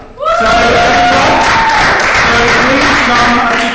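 A school hall audience bursts into sustained applause and cheering at a house music competition results announcement, loud and steady after a brief voice, with clapping filling the room.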